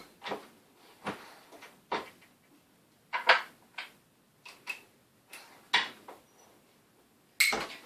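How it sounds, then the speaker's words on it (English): Series of small, sharp metallic ticks and clinks at irregular intervals as spent primers drop into a small bucket on a reloading press, close and fairly quiet. "That noise you hear is the primer dropping down into the little bucket thingy"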